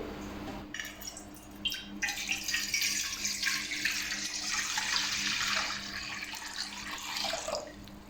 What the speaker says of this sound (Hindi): इसके अंदर 1 लीटर पानी ऐड करेंगे।